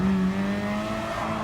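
Race car in GT Sport braking and then accelerating on soft tires at the Nürburgring GP circuit, a loud, steady engine drone.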